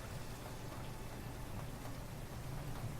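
Steady rain falls throughout a scene in the mystery game Idle Gossip: Murder Most Misfortunate, a constant even hiss of drops with a low rumble beneath, filling the short stretch without any speech over it.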